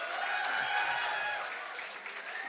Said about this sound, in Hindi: उनके लिए भी तालियां बजाना चाहिए